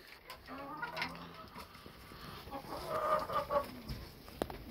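A broody hen clucks with low, drawn-out murmurs and a few sharper calls, close and fairly soft.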